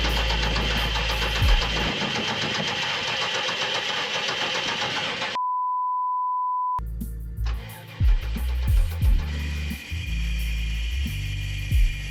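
A Chevrolet LS 5.7-litre V8 with a newly fitted serpentine belt cranks and runs loudly up close, a steady rumbling idle broken midway by a brief flat electronic tone before the engine noise resumes with a few sharp knocks.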